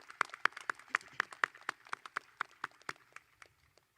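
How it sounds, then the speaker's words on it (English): Steady, fairly quiet clapping from a small crowd at a high school commencement, with distinct individual claps in an even rhythm that fade out near the end. "Let's give them a round of applause"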